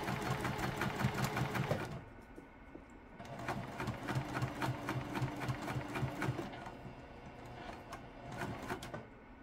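A sewing machine bastes fabric in rapid mechanical bursts of needle clatter: one run, a brief pause, then a longer stitching run, close and clear with no talking.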